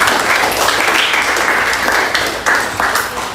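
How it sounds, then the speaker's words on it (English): A classroom of students gives a classmate a round of applause, a dense burst of clapping that stays loud throughout with a few sharper claps near the end. "Give her a round of applause"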